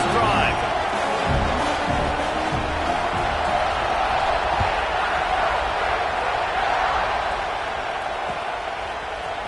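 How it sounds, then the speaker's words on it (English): A stadium crowd at a college football game roars in a steady, broad wash of cheering, loud and sustained with a slight fade toward the end, with a commentator talking over it. "this crowd is feeling themselves after that last drive"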